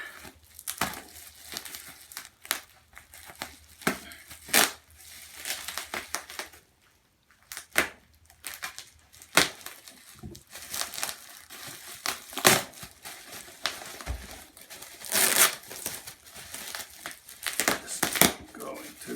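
Cardboard and plastic packaging of a Grand Videoke Symphony 3 Pro Plus karaoke machine being unpacked, with repeated crinkling, crumpling and tearing bursts close by, interspersed with occasional talk.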